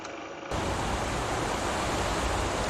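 A wind sound effect from a computer sound app kicks in after a brief quiet moment, becoming a constant, loud broadband rushing noise that holds steady without gusting breaks.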